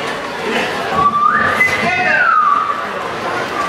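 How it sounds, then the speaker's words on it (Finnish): A concert audience at a show in Heinola in 2014 whistles along together, a loud rising and falling crowd whistle over general crowd noise and chatter. "otetaan viheltäny harjoituksia"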